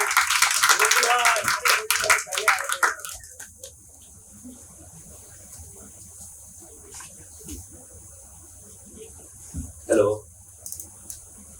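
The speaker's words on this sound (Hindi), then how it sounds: "थोड़ी सी तालियां भी बजा दो." Brief clapping from a small audience at a rap battle competition, dense and loud for about three seconds before fading out, with a single faint clap afterward.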